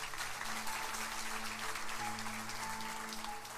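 A church congregation breaks into steady applause during a sermon, a dense, continuous clatter of many hands heard from within the crowd, with a low music tone held beneath it throughout.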